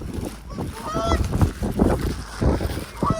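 Geese or similar waterfowl honking near water, several loud nasal calls in quick irregular succession, close by, with a faint voice at times among them.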